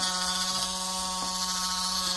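A rotary tool running a conical grinding stone at medium speed gives a steady, continuous high-pitched whine with a constant hum beneath and faint brief scraping touches. It runs throughout, close and moderately loud, with no talk.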